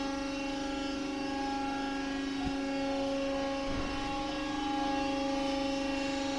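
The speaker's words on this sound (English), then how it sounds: "Just have a quick function test to make sure the hydraulic system and pump is working." Hydraulic pump running on BIKO 3218 B3 bending rolls, a steady loud mechanical whine and hum with strong tonal drone, continuous and unchanging, with a couple of faint knocks.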